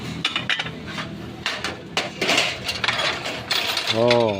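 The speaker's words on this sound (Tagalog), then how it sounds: "Set na pinggan." A set of stainless steel plates is handled, making close, irregular metallic clinks and clatters throughout, with a brief voice at the very end.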